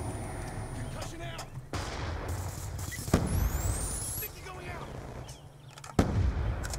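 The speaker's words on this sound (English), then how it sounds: "It's the M27. Just because I love the accuracy it has." M27 assault rifle fire in Black Ops 2, with several sharp gunshot cracks and booms spaced irregularly over continuous game background noise and distant battle sounds.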